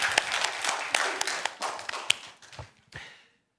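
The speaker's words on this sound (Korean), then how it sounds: "하나님께 영광의 박수를 드리겠습니다." A church congregation gives a brief round of clapping in praise during a Christmas-season sermon, scattered, uneven claps that are fairly close, thinning out and stopping into silence after about three seconds.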